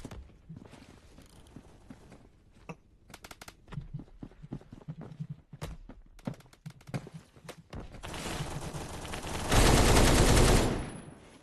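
Rapid gunfire from the online shooter game Phantom Forces, muffled by a suppressor, crackling in dense bursts before a louder sustained roar near the end, with no voices.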